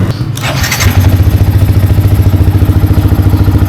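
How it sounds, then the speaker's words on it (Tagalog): A Yamaha MT15 motorcycle engine with a check-engine fault cranks and catches, then settles into a steady, loud idle with a rapid rhythmic putter. "try natin paandarin yung motor"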